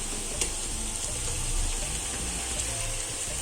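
Onions fry with turmeric in a pan for a home-style veg dum biryani, giving a steady, even sizzle like running water, with one or two faint clinks and no speech.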